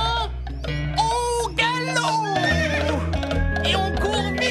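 A horse gives loud, close neighs and whinnies, several shrill rising-and-falling calls in a row over a few seconds, with a voice speaking around them.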